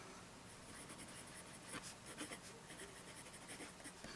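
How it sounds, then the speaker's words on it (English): An Esterbrook Estie oversized fountain pen with a vintage broad Renew Point nib scratching across paper in short, faint strokes and bursts, up close against a hissy background, no talk. "let's go ahead and see how this writes"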